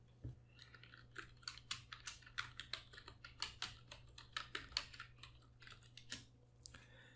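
Fingers tapping out a search on a computer keyboard, a quick close run of soft clicking keystrokes in uneven bursts with brief pauses, faint and alone.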